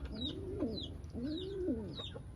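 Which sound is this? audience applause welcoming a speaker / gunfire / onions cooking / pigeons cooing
pigeons cooing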